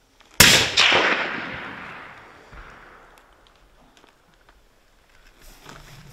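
Rifle shots are fired at a target outdoors in the Arctic wilderness, two sharp close cracks in quick succession, each followed by a long fading echo rolling away into quiet.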